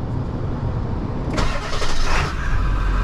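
A pickup truck's 7.3 diesel engine cranks and catches, then settles into a loud, rumbling idle close by.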